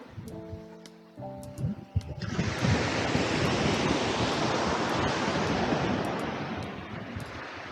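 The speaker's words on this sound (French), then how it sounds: "le vent se lève un peu, je sais pas si vous m'entendez encore." After a brief tonal sound and a few knocks, a strong broadband rush of wind takes over at Djerba, loud and steady, buffeting the microphone.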